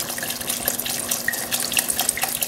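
Red wine poured from a bottle into a pot for an Italian-style roast, a steady liquid trickle and splash with faint bubbly pops, close and moderately quiet.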